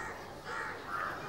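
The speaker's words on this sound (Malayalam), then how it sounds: "കാക്ക." A crow caws a few times, faint and somewhat distant, with no voices over the calls.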